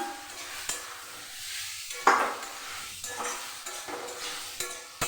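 Pointed gourd and potato fry with spices in ghee in a pan, a steady sizzle broken by several sharp scrapes and clinks of a spatula stirring against the metal.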